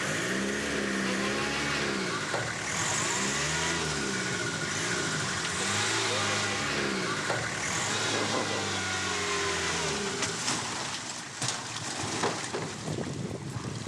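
A vehicle's engine labours in water during a Madagascar crossing, revving and surging in repeated rising and falling strains as it reverses, loud and close with splashing and churning throughout.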